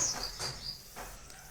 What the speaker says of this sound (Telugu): చూడండి, మళ్ళీ పక్షి వస్తుంది